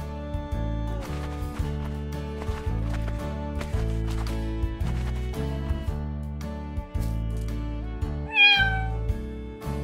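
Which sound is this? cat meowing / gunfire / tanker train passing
cat meowing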